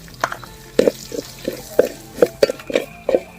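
Chili powder and garlic being stirred into a Kerala fish pickle mixture, a spoon scraping the pan in repeated short strokes, close by with no talking.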